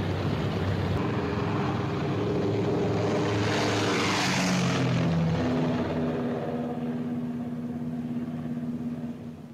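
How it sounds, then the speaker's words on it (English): A WWII Memphis Belle bomber leaves the ground in England as its propeller engines drone loudly and steadily, the pitch shifting as it climbs and slowly fading away. "The wheels of the Memphis Belle leave the soil of England for the 25th time."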